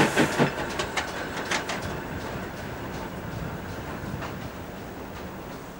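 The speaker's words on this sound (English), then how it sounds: "a grimy Churchwood-designed small prairie number 4593 was shunting a parcels train in the extensive sidings" A grimy GWR Churchward small prairie steam tank locomotive, number 4593, shunting a parcels train in extensive sidings: rhythmic wagon clatter and clanks, louder at first, then a steady rumble fading into the distance.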